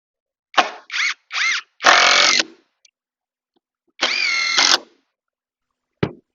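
Power drill driving 3-inch exterior deck screws into a wooden greenhouse work table frame, several short whirring bursts then a longer run, close and clean with no talk.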